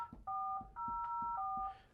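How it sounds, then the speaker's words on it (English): Touch-tone DTMF dialing on a DTEN conference device in a meeting room, a steady series of clear beeping dual tones, each key press held briefly with short gaps between, close and fairly quiet over faint room noise. "you can see here now that I'm dialing my cell phone"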